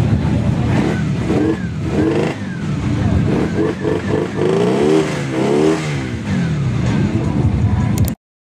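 A Benda Napoleonbob 250 motorcycle with a V-twin engine revs at a moto bazaar event, its engine note rising and falling through several throttle blips, loud and close, with crowd chatter mixed in.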